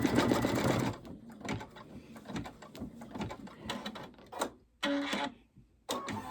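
Embroidery sewing machine stitching out an Easter bunny appliqué, a rapid mechanical chatter of needle strokes in uneven bursts with brief pauses and a louder run near the start, close and alone.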